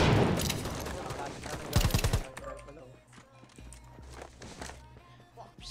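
Rapid gunfire crackles in a Rules of Survival battle-royale match, bursts of shots at the start and a few scattered ones later, under steady talk from players over voice chat.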